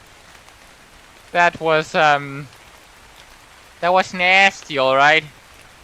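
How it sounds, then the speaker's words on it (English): Steady rain in the video game ARK: Survival Ascended on the Scorched Earth map, a soft continuous patter running through the clip beneath two short bursts of a man's speech. "this is the first time it started raining at all since I've been on Scorched Earth"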